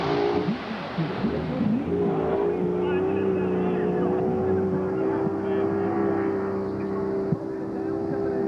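Racing speedboat roaring through a sliding turn on a speedway course, its engine a loud, steady drone with a sustained tone throughout, accompanied by water noise.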